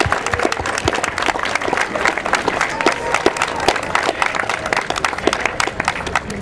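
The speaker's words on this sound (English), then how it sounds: "So let's give them a round of applause for all their help." A crowd at a school walk-to-school day event gives a round of applause for the helpers, with distinct, fairly loud individual claps scattered through a lively outdoor clapping crowd and a touch of cheering.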